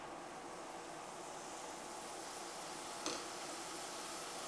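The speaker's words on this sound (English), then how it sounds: "This induction cooktop's a little loud." An induction cooktop hums steadily and loudly while stir-fry vegetables cook on it, a constant broadband drone with one brief sharp tick partway through.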